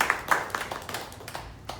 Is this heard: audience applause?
yes